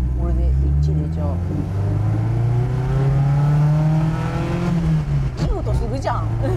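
A 1600GT Isuzu Bellett's engine revs up under acceleration, a loud, close, rising drone that swells and holds for several seconds while people talk over it.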